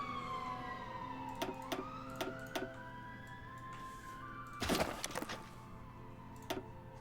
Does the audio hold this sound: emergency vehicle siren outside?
yes